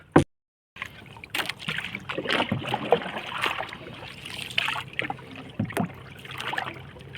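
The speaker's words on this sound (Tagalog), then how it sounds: "Sagwan ulit tayo." Rhythmic water sloshing and splashing from paddle strokes of a small fishing boat, repeated every second or so, with gentle dripping and a faint outdoor background.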